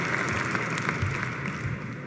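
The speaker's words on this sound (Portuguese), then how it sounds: "Fortemente aplaudido pelo presente." A crowd at Trump's presidential inauguration keeps applauding his speech, a broad continuous patter of many hands that stays fairly even and slightly distant.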